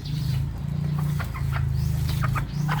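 A native hen clucks softly and repeatedly near a low, steady drone, the short clucks scattered irregularly across a few seconds on a farm.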